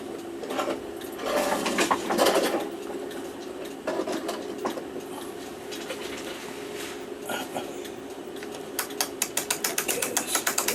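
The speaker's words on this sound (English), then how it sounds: "Wind it up now until the spring is tight enough" A dirty, sticky spring on an 1890 kitchen clock being wound tight with a key, giving bursts of ratcheting clicks, uneven at first and then a fast even run of clicks near the end, close by.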